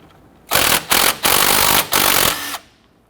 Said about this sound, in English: Using a 12mm socket, we're going to loosen and remove this bolt holding our brake flex hose to the strut